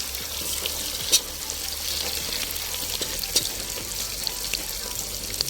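Carrots sizzling and frying in fat rendered from pork cracklings, a steady crackle with occasional pops and stirring sounds, close by.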